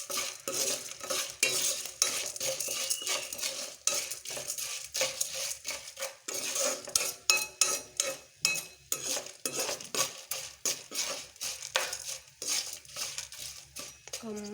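Garlic fries and is stirred in a pan while making drumstick-leaf spice powder. A utensil scrapes and knocks steadily against the pan over a soft, continuous sizzle.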